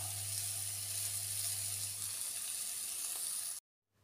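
Potato and capsicum curry sizzles steadily and fairly loudly in a pan, a dense continuous hiss with a low hum beneath it, ending in abrupt silence.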